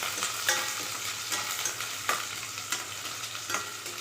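Two large onions cut lengthwise frying in a pan, a close, continuous sizzle with periodic scraping stirs every second or so; nobody speaks.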